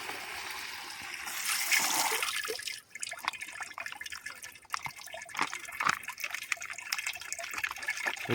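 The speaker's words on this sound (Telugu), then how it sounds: "ఇప్పుడు ఈ డ్రమ్ములో ఒక్కొక్కటిగా పోసుకొని కలిపెట్టుకొని స్లోగా డ్రిప్ ద్వారా చేస్తే సరిపోతుంది" On a papaya farm, liquid is poured into a drum and mixed for drip application. A loud, rushing gush fills the first few seconds, followed by sloshing, splashing and dripping nearby.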